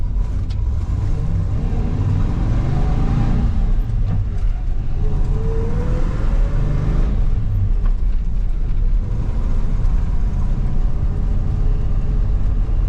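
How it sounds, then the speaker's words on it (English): A Chevrolet Suburban squarebody with an NV4500 manual transmission pulls away in first gear on flat ground, its engine droning loud and close with a rising whine as it accelerates, then settling into a steady cruising rumble throughout. "Try first gear this time."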